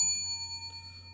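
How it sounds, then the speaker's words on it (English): A single strike on a small bell used as a sound effect, its clear ringing tone sustaining and slowly fading on its own at a moderate level. "we're going to hit the Freedom Bell. Like this."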